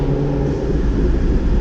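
Chevrolet Corvette ZR1 engine in heavy traffic, a loud close low rumble with a dense throaty texture, steady throughout.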